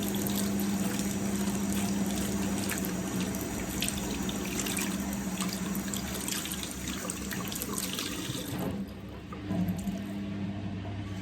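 Tap water running steadily into a sink while something is rinsed clean, a close continuous splashing rush lasting most of the clip before briefly dropping and resuming.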